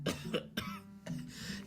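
A person who says they have the flu coughs harshly three times in quick succession, close and loud, with no speech around the coughs.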